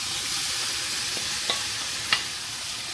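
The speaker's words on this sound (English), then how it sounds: "if you have the opportunity to have fresh tomatoes, you add the fresh tomatoes" Fresh tomatoes hit a hot pan for New York style pizza sauce, giving a steady close sizzle with a couple of brief stirring clinks, no voices.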